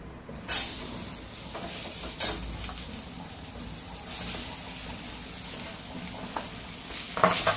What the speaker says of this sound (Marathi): आता लगेच कांदा भाजून घेऊया.